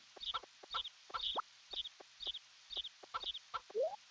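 Chickens in the farming video game Harvest Moon 64 give short repeated clucks in a quick, regular series, about two per second, each a brief clipped note, a couple ending in rising squawks, quiet and alone.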